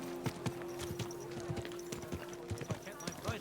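Horse hooves clip-clopping at a walk through a busy medieval market in Kingdom Come Deliverance 2, steady close clops over a constant tonal hum, with voices of townsfolk talking in the background.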